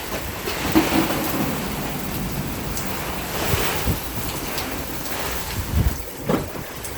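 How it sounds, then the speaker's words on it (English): Steady heavy rain pours down with a dense hiss, with gusty wind buffeting the microphone and no voices, during Hurricane Lorena. "there's the rain coming down right there"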